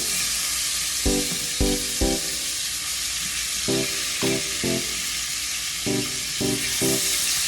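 T-bone lamb chops sear in a hot stovetop pan with a steady, loud sizzle, and bursts of crackle and spatter come at about one-second intervals as each chop drops in. No one speaks.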